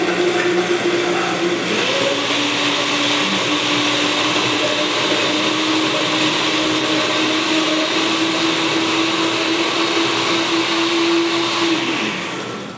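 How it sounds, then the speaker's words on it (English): A blender grinds nuts in a loud, continuous whirring roar whose pitch shifts slightly as the blade works through the mixture, winding down at the very end. "Keep blending it up without it getting stuck"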